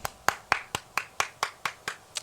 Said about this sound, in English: Let me hear a clap for the Free Britney movement.